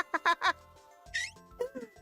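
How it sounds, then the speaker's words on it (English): A short game notification chime rings out clearly in a quiet moment, a bright tonal burst with quacking-like blips around it and no talk. "The stupid notification sound."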